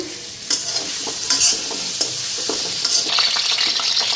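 Egg frying in a pan with mustard, a close sizzle broken by several scraping stirs and clinks of the spatula, steady and without speech.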